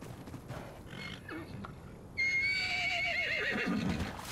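An Equus horse in the video game ARK Ascended gives a loud, close neigh that rises and wavers down over about two seconds, following a stretch of quieter game ambience with no talk.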